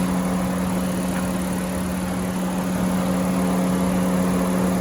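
A 2020 Honda Pilot Touring all-wheel-drive engine idles steadily with a smooth, low hum and faint high whine, constant and even throughout with no voices.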